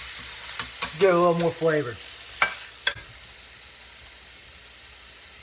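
Steak fries in a pan with marinara sauce, a soft continuous sizzle under a brief spoken line and a few sharp clatters of utensils against the pan.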